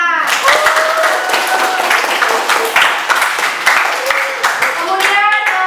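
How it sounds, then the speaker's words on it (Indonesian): A classroom of students claps together in a short burst of applause, uneven hand claps sounding close, with voices talking over and around the clapping. "beri tepuk tangan"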